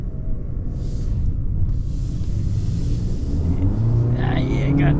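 A 2026 Toyota Corolla Cross with a 2-liter four-cylinder and CVT gives a steady whirring drone from inside the cabin as it revs, rising slightly near the end.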